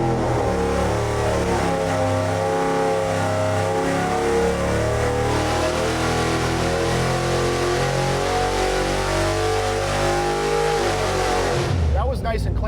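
Junkyard Ford 445 FE V8 fitted with modern EFI revving hard on an engine dyno, a loud steady pull climbing in pitch for about twelve seconds before cutting off, with voices talking over it.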